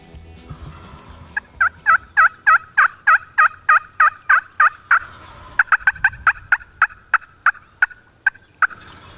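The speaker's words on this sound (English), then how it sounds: "After hearing a gobble from the truck, we quickly set up" A wild turkey gobbles over and over in quick, rhythmic bursts, loud and clear, with a second rapid run of calls toward the end.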